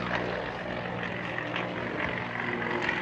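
An aerobatic propeller aeroplane performs at a 2009 air display, its engine a steady loud droning roar that holds throughout with no pauses.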